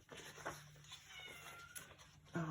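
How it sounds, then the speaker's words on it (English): A house cat meows from outside, wanting to be let in; a few faint, brief calls sit behind steady room noise, with a clearer, louder cry near the end. "Oh, if you hear it, this is my cat. She wants to come in"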